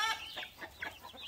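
Young chickens, recently baby chicks, cluck in short bursts at feeding time on a farm, a few quick calls close by with no talk over them.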